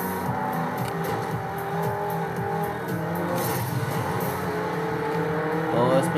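Race car engine in Forza Horizon 2 holds a steady, loud droning roar with shifting pitch throughout, with a brief tire squeal rising near the end.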